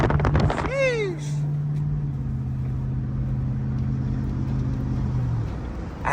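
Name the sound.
road traffic, cars passing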